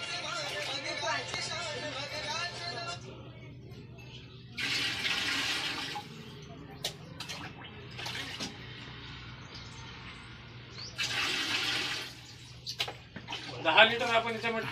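Nine litres of water and one litre of cow urine poured into a container, heard as several bursts of splashing, gushing liquid between stretches of talking.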